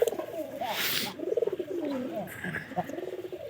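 Pigeons coo in soft, rolling, throaty phrases, close by, with a brief rustle partway through.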